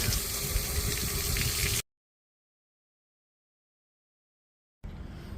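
Water gushes through the pump housing of a 150 hp Mariner/Mercury two-stroke outboard motor during a flush, a loud, hissing rush that cuts off completely for a few seconds and then starts again.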